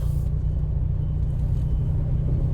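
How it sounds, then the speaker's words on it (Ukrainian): A 2020 Mini Cooper John Cooper Works Cabrio with a soft top, about 50,000 miles on it, rolls through city streets, its cabin filled with a steady low engine and road rumble, continuous and fairly loud. "Досить приємна машина ходу, гарно керується"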